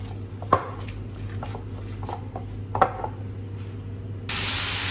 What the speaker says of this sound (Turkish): Köftelerim şöyle biraz cızırlıyor.